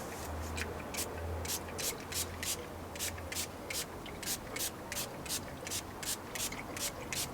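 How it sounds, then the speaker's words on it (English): A trigger sprayer applies Auto Bright Ultra Slick sealant to grimy car parts in quick, sharp hissing bursts, about twenty close pumps in a loose rhythm over a low background hum. "So what I'm going to do is just spray all the bits and bobs that are pretty nasty."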